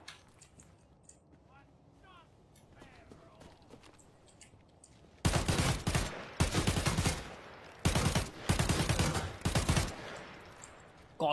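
Bursts of gunfire fired at bots in the shooter game Arena Breakout, several loud rapid volleys after a quieter stretch of faint movement and ambient noise, with a short gap between the bursts.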